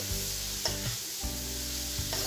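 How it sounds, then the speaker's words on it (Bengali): Finely chopped taro (kochu) being stirred in a frying pan for kochu bhaji with prawns, a steady close sizzle broken by a few scraping strokes, heard over a sustained musical background. "এখন এই সব কিছু আমি নেড়ে নিচ্ছি"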